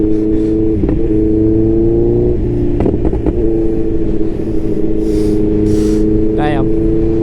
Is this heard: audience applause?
no